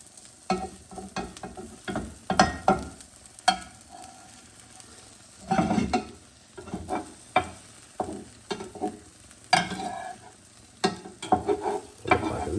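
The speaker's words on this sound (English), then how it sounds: "And now on a nice slow heat, I'm just going to continue folding that." Korean rolled omelette of egg being folded in a pan over slow heat, soft sizzling under repeated scraping and tapping of a utensil against the pan in an irregular rhythm, close up.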